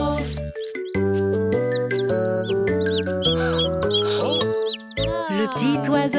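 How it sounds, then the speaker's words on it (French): Cartoon small-bird chirps in a French children's song, quick bright tweets sitting among loud playful music and sung melody. "Cui, cui, il appela toute sa famille."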